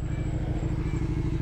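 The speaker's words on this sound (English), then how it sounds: "V-twin motor." A motorcycle's V-twin engine runs and revs close by, a steady throbbing rumble with a light mechanical clatter, no voices over it.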